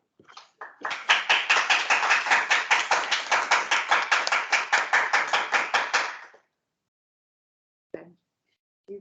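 Clapping at the close of an online physics colloquium talk: a steady run of evenly spaced, close claps for about five seconds, then silence with a couple of faint knocks.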